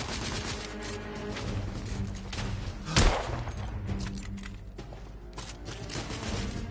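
Gunfire in the video game The Order: 1886, a steady dense stream of shots and impacts with one sharper, louder blast near the middle, all at fairly even loudness without talk.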